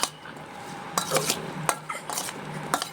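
Hand-mixing of food with chili powder and salt, giving soft squelching and scraping with occasional clinks against a bowl or plate, in short irregular bursts close by, with no talk.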